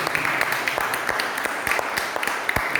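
A church congregation at Holy Mass claps together, a steady patter of many hands at moderate distance lasting a few seconds in a reverberant hall.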